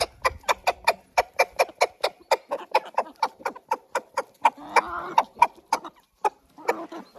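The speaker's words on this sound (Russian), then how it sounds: "И курочки все собирают." Hens cluck in a quick, regular series of sharp close calls while pecking at crumbled dry yeast scattered for them in a farmyard, with fainter rustling between the calls.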